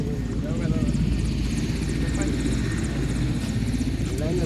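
A helicopter drones steadily overhead with a loud, continuous rotor and engine roar, and people talk faintly beneath it.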